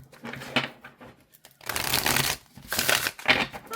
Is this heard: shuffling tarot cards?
yes